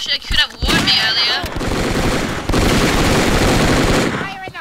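Loud, rapid bursts of automatic gunfire from the video game Brick Force rattle continuously, with brief speech near the start and end.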